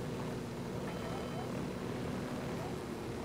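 Helicopter in the game Ghost Recon Wildlands, a continuous low rotor drone and rumbling engine roar held steady and fairly faint, with someone talking over it.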